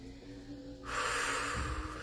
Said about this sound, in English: taking that clearing breath